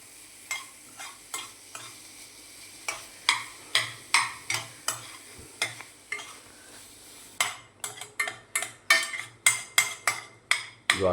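Garlic frying in butter in a pan over a low gas flame, with a steady run of sharp spoon-scraping stir strokes against the pan over a soft sizzle. The strokes get quicker and denser toward the end, and no one speaks.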